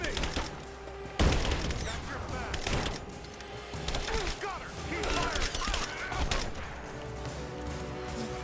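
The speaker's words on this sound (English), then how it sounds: "Shrapnel grenades." Shrapnel grenades burst in Rise of the Tomb Raider gameplay, a loud sharp blast followed by scattered cracks, thuds and debris, with gunfire-like clatter continuing under occasional talk.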